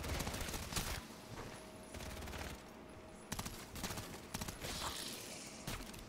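Sustained automatic gunfire in Call of Duty: Modern Warfare III Zombies, a rattling stream of rapid shots with short gaps and louder bursts, fairly quiet overall with no talking.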